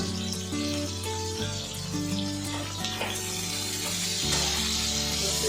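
Chilli and ginger frying in hot oil in a home kitchen pan, a steady loud sizzle with crackles running throughout, alone without talk.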